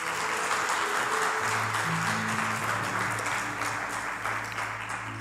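A church congregation claps continuously in a dense wash of applause, with faint musical tones sustained underneath.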